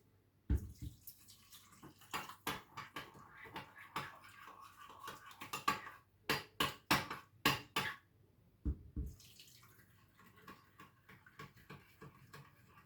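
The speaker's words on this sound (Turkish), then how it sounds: "sıcak suyum var kaynatmıştım onu ilave edeceğim" Boiled hot water pours from a kettle into a salted mixture for oven-baked chicken legs with potatoes, a soft watery trickle broken by sharp clinks and taps, close and fairly quiet, with no talking.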